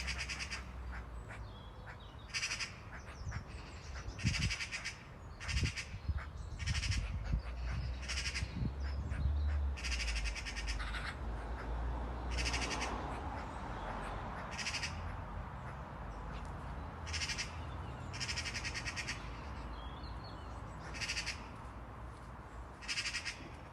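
Two birds fighting and mating, harsh repeated squawks and caws in irregular bursts over a noisy outdoor background, fairly close and loud.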